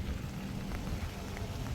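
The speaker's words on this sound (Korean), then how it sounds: "지금 밤에도 이렇게 비가 내리고 있습니다" Rain falls steadily at night onto wet ground, a soft even patter with no talk.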